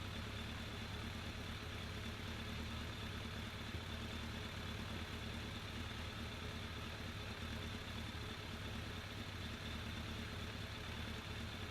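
A motorcycle engine idles steadily during an MOT inspection, a faint, even hum that stays constant throughout.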